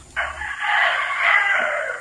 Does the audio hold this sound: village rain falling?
no